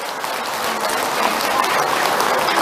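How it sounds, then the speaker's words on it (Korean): An audience at a Buddhist dharma service in a temple hall gives sustained, close applause, a thick, even patter of many hands that holds steady throughout. "박수 한번 드리세요"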